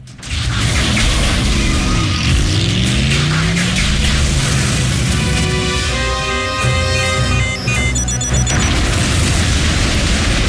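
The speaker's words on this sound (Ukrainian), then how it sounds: "Усе зараз вибухне." A cartoon explosion from an animated Transformers Prime episode: a loud, sustained blast with deep booming rumble and mechanical debris, layered over dramatic score for about ten seconds with no talk.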